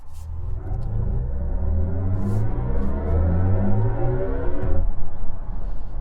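A BMW i5 Touring accelerates from a slip road onto the main road, its smooth electric drive rising in a climbing whine over steady tyre and road rumble, close and continuous, before easing off near the end.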